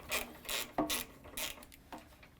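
Ratchet wrench turning a socket on abandoned scrap equipment, a few short bursts of close clicking and scraping metal strokes in an uneven rhythm.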